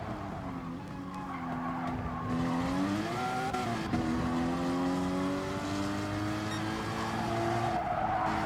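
A Porsche Cayman Gr.4 race car laps Laguna Seca in Gran Turismo Sport, its engine droning loudly and steadily, with pitch rising and shifting through gear changes and a continuous tire squeal underneath.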